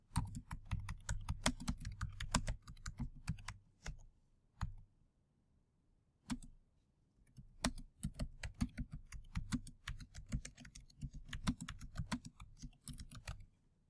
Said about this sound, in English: we're going to go ahead and type classes meet weekday mornings throughout the summer